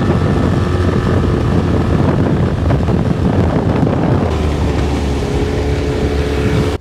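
A motorboat planes at speed, a loud continuous rush of engine and water with heavy wind buffeting the microphone throughout.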